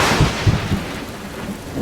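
Thunder rumbles loud and close, a deep rolling crash with rain-like hiss over it, heard alone with no talking.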